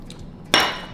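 Two coffee cups of stovetop cafetera coffee clinked together in a toast, one sharp bright knock up close with a short ringing tail.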